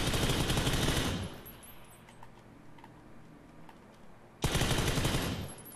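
A UMP submachine gun in a video game fires two loud, close bursts of rapid automatic shots, separated by a few seconds of quieter background.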